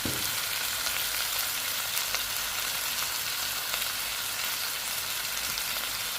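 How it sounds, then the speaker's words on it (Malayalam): Onions sauté in a pan with spices, a dense and continuous close sizzle at steady loudness. There is no talk. "സവാള ഇട്ട് നന്നായി മൂപ്പിച്ചെടുക്കുകയാണ്"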